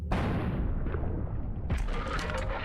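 A gunshot in a horror video game: a loud, close boom with a heavy, rumbling tail, followed by a second crack-like burst partway through.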